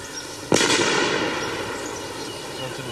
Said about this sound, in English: One of the first is a grenade throw, which seems almost relaxing after the previous events.